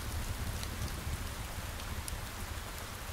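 Steady rain falls close by at a lakeside cabin, a dense, even hiss of drops on surfaces with no other sounds.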